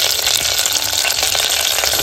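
Curry leaves and garlic frying in hot oil in a wok for tempering, a loud, dense, continuous sizzle close up.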